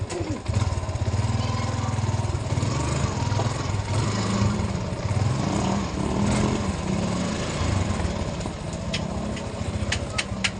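A loud motorcycle engine runs steadily close by, a continuous rumbling drone that barely changes throughout.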